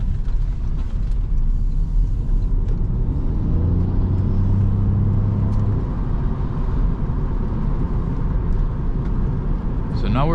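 A 2024 Toyota Yaris Hybrid driving in normal mode gives a steady low cabin rumble and road noise, with a brief rising engine tone midway and someone talking over it throughout.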